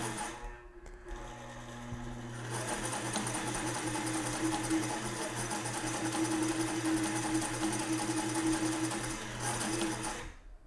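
Sewing machine stitching fabric, a steady close mechanical whir with rapid needle chatter that starts up after a short pause and runs continuously for several seconds.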